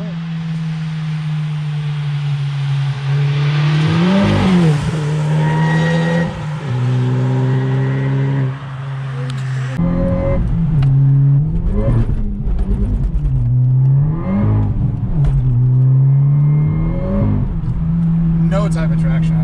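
A 2018 Honda Civic Type R exhaust drones loud and close as the car accelerates, revving repeatedly and surging through gear changes on an open road, with people talking over the engine noise.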